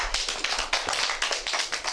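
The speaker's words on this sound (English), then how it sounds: "Give them a round of applause." An audience at a primary school teaching event gives a round of applause, dense close clapping with many rapid overlapping claps throughout and no talk.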